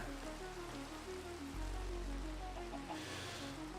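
Steady rain falling in the Minecraft video game, a continuous soft hiss of drops at moderate level with low background tones beneath, no talking.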